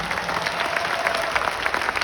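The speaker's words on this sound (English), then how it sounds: "So give my family a clap." Crowd applause fills a large arena during a stand-up comedy show, a steady, even patter of many hands clapping throughout.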